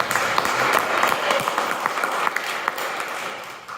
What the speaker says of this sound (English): So give her a thunderous round of applause.